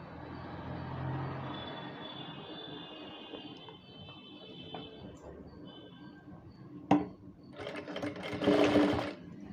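A sewing machine stitches the side seam of a child's frill frock, a close, steady mechanical whir running for several seconds, then a sharp click and a louder final burst of stitching.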